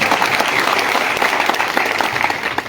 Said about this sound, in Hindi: दलजिंदर सैनी जी के लिए ताली बजाओ ना